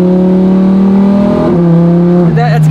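Lamborghini Huracan hypercar accelerating hard nearby, a loud sustained engine tone climbing in pitch, dropping at a gear change, then rising again, with people talking over it.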